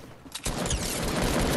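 Pistol gunfire in the video game Fortnite, a sudden dense burst of rapid shots that begins abruptly and runs continuously and loudly to the end, with no talk over it.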